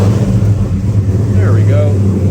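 Supercharged Godzilla V8 swapped into a 1978 Ford Bronco firing up for the first time, a steady low engine rumble with a voice talking over it.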